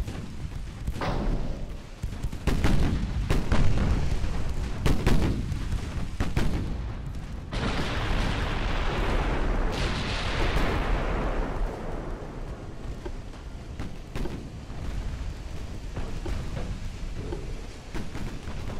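Naval battle in a French Empire campaign strategy video game, with a warship firing torpedoes and guns: repeated deep booms and thuds over a continuous rumbling roar, fairly loud throughout.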